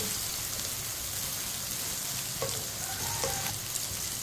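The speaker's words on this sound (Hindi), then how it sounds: "इसे लाजमी चम्मच चलाते हुए पकाना है" Sliced ridge gourd fries in a pan with a constant close sizzle, while a spoon stirs it, adding a few light scrapes and taps toward the end.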